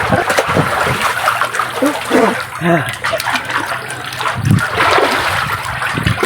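Water from a tubewell splashes and pours steadily, loud and close, with excited voices talking and shouting in Hindi over it.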